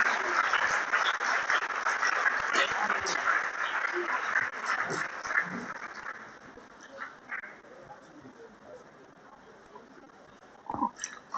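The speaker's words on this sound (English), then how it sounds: "Come on, clap some more." A school audience claps for the PTA chairman during an arts day event, with dense, loud applause filling the first six seconds, then thinning into scattered claps and a brief burst near the end, with voices murmuring throughout.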